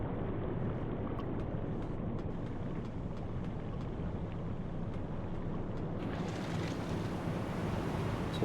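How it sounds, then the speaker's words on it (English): Heavy sea surf and gusting wind batter the conning tower of a Type VIIC U-boat in UBOAT, a dense steady roar of crashing water and rushing wind with rumbling low end throughout. "the waves are still like crashing the tower. It's really windy"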